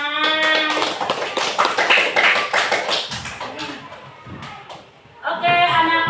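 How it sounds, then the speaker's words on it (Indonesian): Schoolchildren in a classroom clap in a brief, uneven burst between stretches of a teacher's voice, the claps loud and close with sharp individual slaps. "silakan duduk, bisa kasih tepuk tangan"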